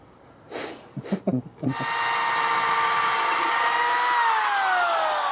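A power drill bores screw pocket holes in wood for a hybrid top bar beehive, running loud and steady with a high whine after a few brief knocks and taps, close up and alone.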